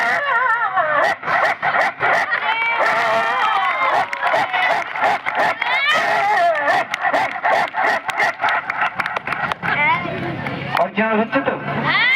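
A voice imitates a pet dog barking and chasing a stranger, with loud, rapid, rough bark-like yelps and growls in continuous bursts, close and dominant, with a crowd-like murmur underneath.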